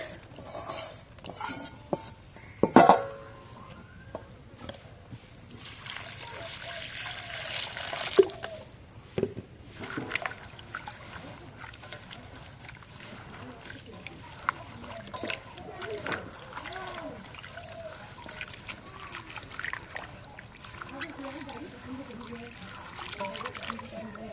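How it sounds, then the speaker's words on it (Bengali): Potatoes being washed by hand in water, with intermittent splashing, sloshing and trickling close by while a person talks over it. "আলুটা ধুই"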